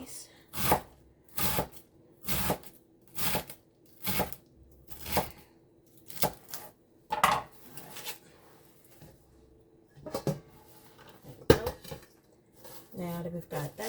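A knife chops cabbage and other vegetables for coleslaw on a cutting board, making a steady series of sharp, close knocks at an even rhythm, then a looser, irregular run of cuts. A voice talks over it.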